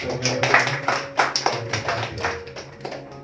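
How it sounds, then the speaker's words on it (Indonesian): A church congregation claps briefly after a sermon, a short patter of uneven hand claps from a modest group rising then thinning out over a few seconds. "Kita beri tepuk tangan."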